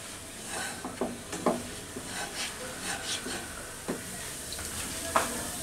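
A spoon scrapes and stirs a thick milk powder burfi mixture in a pan over low heat, giving soft, irregular rubbing strokes with a few sharper knocks, close and fairly quiet, with no one speaking.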